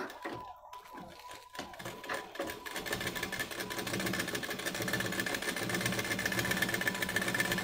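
Sewing machine stitching a deep-neck blouse, starting with a few short stitch bursts and then settling into a continuous fast whirring run that grows slightly louder, close and alone.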